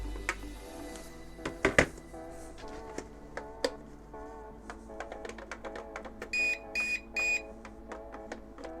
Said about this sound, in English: it's obviously going to beep at me because it's looking for connectivity with the airplane